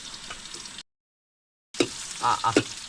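Chopped garlic dropped into a little hot cooking oil, giving a steady light sizzle, then a gap of silence before louder crackling frying bursts return.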